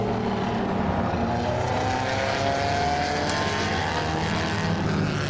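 A 1932 Alfa Romeo 8C Zagato Spider races in a historic car event, its engine a steady, loud droning roar that holds without letup throughout, with no voices.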